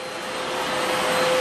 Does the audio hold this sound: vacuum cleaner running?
yes